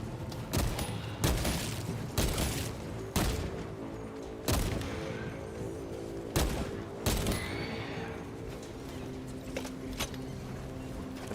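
Bolt pistol fire in the video game Space Marine 2, loud sharp booming shots fired singly and in quick pairs at irregular intervals over a tonal game soundtrack.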